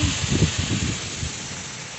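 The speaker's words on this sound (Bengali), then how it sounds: "আজকেও দেখো এই যে ঝড় হচ্ছে। সকালবেলা কত বৃষ্টি আর ঝড়," Heavy rain pouring during Cyclone Remal, a dense steady roar with low rumbling gusts of storm wind, close and loud.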